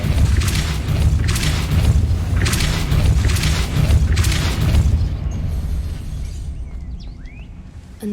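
Repeated Depulso spell casts in the Hogwarts Legacy video game land as four loud, booming blasts in a steady rhythm, each about a second apart, followed by a fading rumble and quieter ambience.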